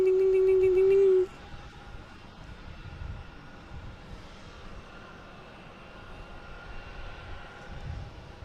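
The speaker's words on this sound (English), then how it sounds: "We got JetBlue here taking off, heading to Las Vegas." JetBlue Airbus A321 departing Boston Logan, a steady distant engine rumble with a low broadband roar holding throughout after a brief loud tone at the start.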